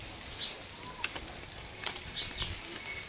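Constant sizzling hiss of meat frying in hot fat, with occasional sharper pops and spits rising above it.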